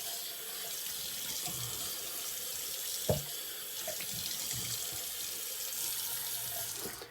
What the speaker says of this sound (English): I'll wipe that out, and then I'll do a cold water rinse.